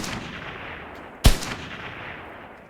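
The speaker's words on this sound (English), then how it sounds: "Ooh, I could actually shoot the light bulbs out." A single sharp, loud gunshot in a video game, fired to shoot out a light bulb, cracks out over a low, steady ambient rumble and then tails off in a short echo.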